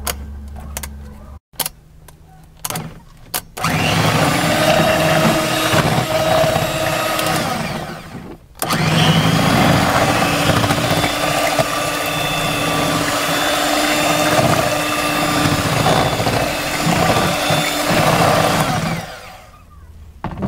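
An electric hand mixer whirs loudly and steadily as it beats leche asada batter with milk added, switching on after a few brief starts, stopping briefly partway, then running again before cutting off.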